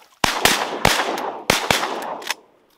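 Shotgun blasts fired at ducks during an opening-day public-land duck hunt: several loud, sharp reports in a quick, uneven volley, each with a short ringing tail, fading to silence afterward.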